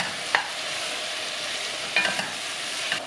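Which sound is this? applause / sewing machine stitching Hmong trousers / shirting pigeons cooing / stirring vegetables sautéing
stirring vegetables sautéing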